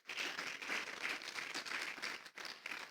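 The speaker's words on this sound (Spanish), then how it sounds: "Démosle un aplauso fuerte a Dios." A church congregation claps in a steady, dense burst of applause for God during a Christmas service, the sound filling the room and briefly dipping near the end before resuming.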